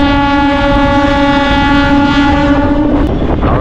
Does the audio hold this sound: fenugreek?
no